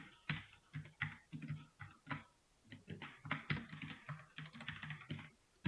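Keys clatter on a computer keyboard in quick, uneven bursts of close, crisp clicks, and the Ctrl key is pressed now and then, with no talking.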